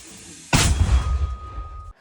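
A single sharp mortar blast booms suddenly, followed by a rumbling decay and a thin lingering whine before abruptly cutting off.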